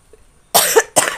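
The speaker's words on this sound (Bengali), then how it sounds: "কাশি একবার শুরু হলে আর বন্ধ হচ্ছে না" A person coughs twice in quick succession, harsh and close, after a near-silent pause.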